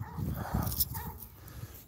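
A dog barks and yips in a quick burst of a few sharp calls outdoors, fairly close and moderately loud, with no one speaking.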